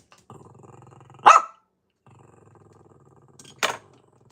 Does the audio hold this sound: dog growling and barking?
yes